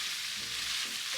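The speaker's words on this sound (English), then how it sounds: "Stir-fry the ingredients lightly to coat them with oil." Steady broadband sizzling of vegetables and konnyaku stir-frying in oil, a continuous hiss with faint stirring clatter underneath, close and fairly quiet.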